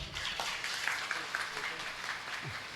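A gathering of students and visitors applauds their teacher, a moderate, even patter of many hands clapping with some voices mixed in underneath.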